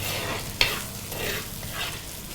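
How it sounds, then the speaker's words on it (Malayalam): Onions fry in a pan for a seer fish head curry, a soft continuous sizzle with swishing stirs and one sharp clink of a spoon near the start. "ഉള്ളി ഇടാൻ പോവാണേ. ഇതൊന്ന് മൂക്കണം."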